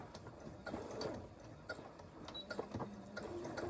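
Serger sewing machine stitching with a microtex needle through two-way stretch fabric, a faint rapid mechanical ticking and whirring in short irregular bursts, heard close.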